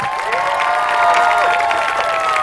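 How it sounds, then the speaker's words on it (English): A stage-show audience claps and cheers loudly for a woman returning to her seat, with sustained applause and bright voices and whoops riding over the top throughout. "Give her a round of applause"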